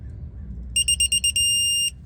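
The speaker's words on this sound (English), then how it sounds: "we're just gonna turn it till it beeps" A torque wrench, set to 18 foot-pounds for an oil change on a 2019 GMC Sierra, sounds five quick, clear electronic beeps, then one sustained beep held for about half a second. No one speaks over it.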